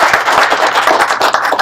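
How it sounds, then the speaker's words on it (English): A room claps for kindergarten readiness program staff at a local news event, with dense, steady clapping held up for under two seconds and no voices. "So I'd like for everybody to give them a round of applause for"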